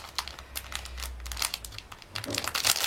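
A small plastic sachet of stickers being handled and opened, close crinkling and rustling of thin plastic in irregular bursts that grow busier toward the end, no talking.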